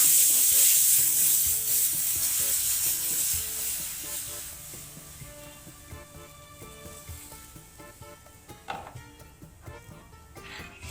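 Tamarind pulp added to a pan of crackled cumin and asafoetida is stirred for a chutney, with a soft sizzle and scraping spoon strokes that fade gradually, a few sharper clinks near the end, no talk.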